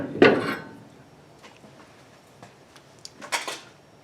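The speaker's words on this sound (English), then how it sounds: "And then it's hitting the transmission pan." A loose metal part knocking against the transmission pan of a Ford Mustang fitted with an AOD/4R70W transmission in a garage: one loud clattering knock at the start, then scattered faint taps and a second sharper metallic clunk near the end.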